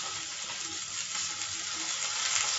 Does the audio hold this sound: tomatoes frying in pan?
yes